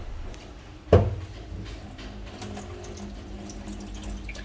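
Tap water runs steadily into a sink while rice is rinsed, a short knock near the start followed by continuous low splashing and trickling, moderately quiet with no voices.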